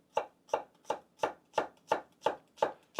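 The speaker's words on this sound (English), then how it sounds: "When I'm cutting shallots" A sharp knife slicing shallots on a cutting board, nine evenly spaced crisp chops in a steady rhythm, close and clear with no talking.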